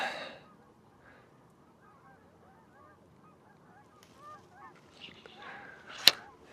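Geese honk repeatedly in flight in the distance, a scattered chorus of faint calls over outdoor quiet, with a few louder noises near the end.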